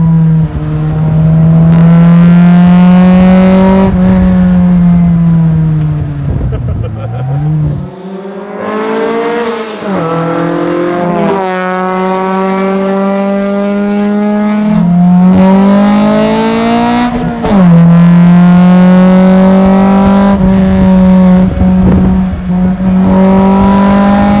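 A classic Mini fitted with a Honda Type R engine revs loudly and climbs through the gears, dropping briefly between shifts before pulling hard again, close and sustained.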